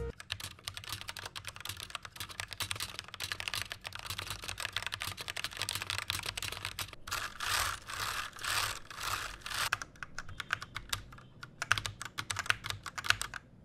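Rapid, steady typing on an Ant Esports MK1300 Mini mechanical keyboard, a dense stream of close clicky keystrokes with a few brief pauses and bursts, no talking.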